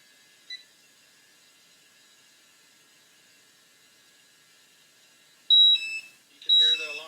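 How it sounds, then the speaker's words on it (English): After a long stretch of near silence, a handheld gas monitor raises its hazardous-atmosphere alarm in two loud bursts of shrill electronic beeping near the end, close by and with no speech over it. "You can hear the alarm going off."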